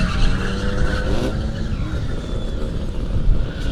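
A short BMW 3-series drift car, a 316 or 318, skids with sustained tire squeal and revving engine at a drift park qualifying event, loud and continuous throughout.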